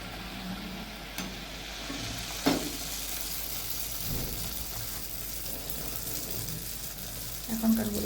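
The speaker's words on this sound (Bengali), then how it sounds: "তো এই যে মা ভাজছে" Patishapta and poa pitha, Bengali rice-flour cakes, frying in a pan with a steady soft sizzle throughout, a few brief clinks of utensils, and no talking.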